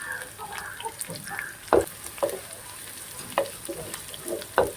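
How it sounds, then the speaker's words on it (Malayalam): Curry leaves frying in oil, a steady sizzle with several sharp crackling bursts as they are stirred in the pan. "പിന്നെ ഇതാ കറിവേപ്പില, ഇതൊന്ന് ഇളക്കി കൊടുക്കാം."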